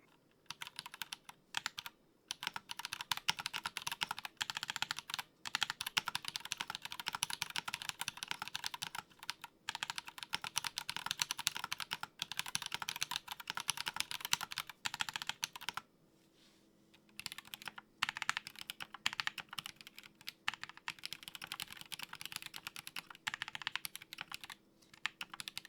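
A Glorious GMMK Pro mechanical keyboard is typed on in steady, rapid bursts of crisp clicking keystrokes, with a few brief pauses, close up and with no talk.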